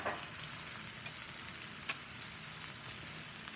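White wine and tomatoes sizzling in a pan for Italian stuffed eggplant, a soft steady frying hiss with a few faint clinks and stirring sounds, fairly quiet and without talk.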